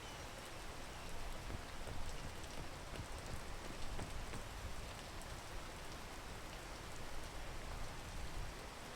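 Steady rain falls in the video game PEAK as a soft, even wash of raindrops with scattered faint patters. It plays very quietly and without pause, and no voices are heard.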